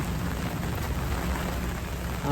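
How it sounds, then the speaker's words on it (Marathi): Steady monsoon rain pours continuously over open countryside land, a dense even hiss with a low rumbling undertone, no voices present. "माझ्या मागून पाऊस सुरू आहे"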